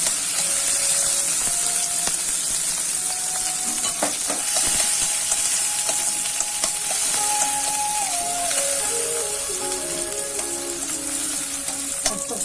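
Dry red chillies, curry leaves and peeled garlic sizzle steadily in hot oil for a tempering, a loud, continuous crackling fry close up, with faint stirring and a tone-like hum running through it.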